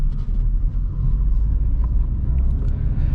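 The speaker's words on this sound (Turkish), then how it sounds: "Duster'ın sürüşündeyiz arkadaşlar." A 2020 Dacia Duster with a factory-fitted 1.6 LPG engine on a Landirenzo system drives along. The cabin carries a steady, loud low rumble of engine and road noise, with no one talking.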